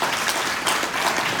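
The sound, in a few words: applause for the panel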